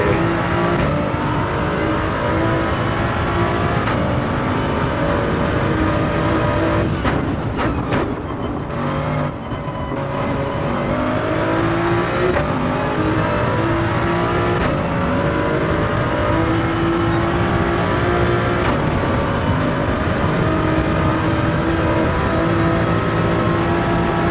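GR Supra Racing Concept engine at the Nurburgring in an online racing game, a loud, steady high-revving drone with repeated rising pitch sweeps as it shifts up through the gears, easing briefly before building again.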